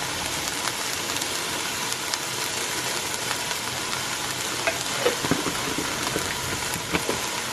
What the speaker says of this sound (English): Add the minced garlic into.